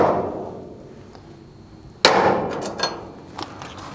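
A hammer gives a transfer punch one sharp metallic tap on a metal plate, marking hole positions, followed by a couple of lighter knocks and faint handling sounds.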